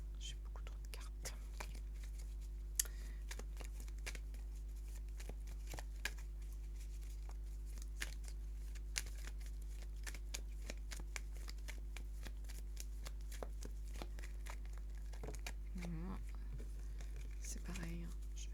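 Tarot cards shuffled close by in a quiet room, a long run of soft rapid riffles and flicks with a low steady hum beneath and a brief whispered voice near the end.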